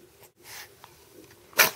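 A little girl's single sharp sneeze bursts out near the end, close and loud, following a stretch of quiet, faint background sound.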